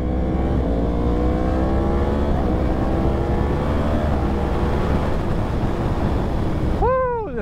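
2022 Yamaha R1 sport bike with an ECU flash tune and intake filters accelerating hard: a loud engine note climbs steadily in pitch through a long pull, ending in a sharp rising rev as gears change.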